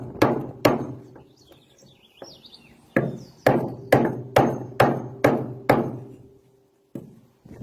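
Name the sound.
hammer beating metal anchor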